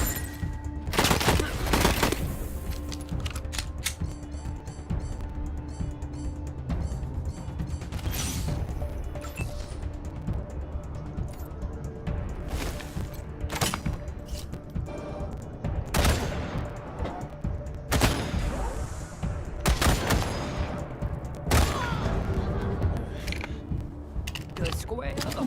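Rapid bursts of gunfire in the video game Wasteland 3, sharp repeated shots cracking over a busy mechanical, clattering game soundscape, loud and close throughout.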